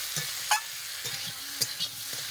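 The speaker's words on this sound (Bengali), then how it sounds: "এবার এই ভেজে রাখা আলুগুলো দিয়ে দেবো আলুগুলো দিয়ে মশলার সাথে একসাথে কষাই করবো" Fried potatoes being sautéed with spices and tomato in a pan make a soft, steady sizzle, broken by a few light scraping stirs and taps of the spoon.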